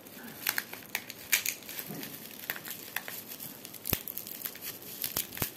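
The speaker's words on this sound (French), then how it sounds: "c'est tout un art de scotcher un scotch sur du bulle" Tape being stuck onto bubble wrap packaging during an unboxing of a cross-stitch craft kit, close and quiet crinkling with sharp tearing snaps and small pops scattered irregularly.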